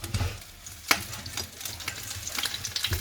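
Chicken frying in hot oil for chicken manchurian, a steady close sizzle with stirring and scraping noises and one sharp clatter partway through; no voices.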